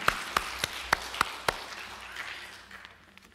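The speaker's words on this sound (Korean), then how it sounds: "하나님께 영광의 박수 한번 하겠습니다" Sparse claps at a church thanksgiving service marking an internet gospel broadcaster's fifth anniversary, about six distinct sharp claps in the first second and a half, then fading into quiet room noise with a few faint taps.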